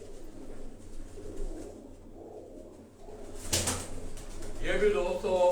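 Pigeons coo softly at close range on a Karachi rooftop at night, a low murmuring call from birds of a homing flock, with a brief rustle or flutter partway through and a voice speaking at the end.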